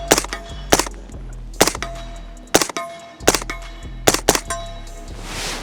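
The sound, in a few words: gunshots from a gun fired at night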